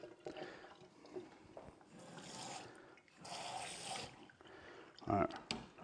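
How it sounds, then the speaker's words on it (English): Running water gives a kitchen sink a quick rinse, a faint, uneven splashing and trickling that comes and goes beneath a person talking. "So we'll just do a little bit of a quick rinse."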